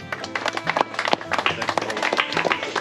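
An audience at a fishing competition prize ceremony claps briskly in a short, dense burst of applause, close and lively.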